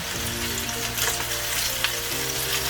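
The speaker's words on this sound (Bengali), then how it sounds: "পেঁয়াজ কুচিটা দিয়ে একটু নেড়ে দেবো" Chopped onion with salt frying in a pan for Old Dhaka beef tehari, a dense, even sizzle heard up close with a faint scrape of stirring and no voices.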